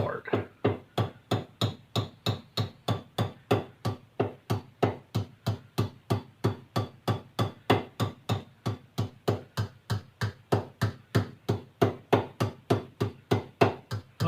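Steady, rhythmic hammer blows on sheet metal while forming a rudder rib for a CH750 STOL aircraft, roughly three strikes per second, close and loud, continuing evenly with no talk.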